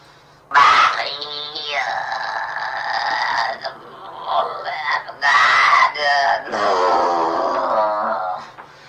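A girl screams and groans in a recording of an exorcism, with long, harsh, strained cries broken by short pauses, loud and close.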